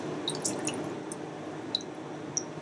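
Cuttlefish is rinsed under a tap. The sound is a soft, steady trickle with scattered small drips and splashes, close and fairly quiet, with no talking.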